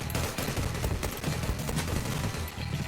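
Sustained rapid gunfire from a video game, with a magazine emptied in one dense, loud burst of shots that continues without a break.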